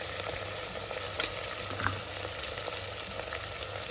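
Ginger garlic paste sizzles steadily in a hot pan while chicken biryani is being made, giving a constant close crackling fry with a few small pops and stirring scrapes, and no voices.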